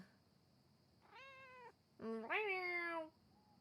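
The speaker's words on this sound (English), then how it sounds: "it's a cat." A cat in the video game Pentiment gives two close, clear meows, a short one and then a longer, rising and falling cry, over a quiet hum of background ambience.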